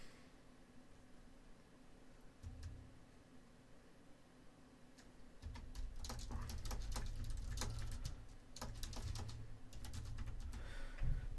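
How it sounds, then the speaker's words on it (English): Computer keyboard typing, soft clicky keystrokes in quick irregular runs that grow busier in the second half, over a faint steady background hiss. "we will go ahead and type in"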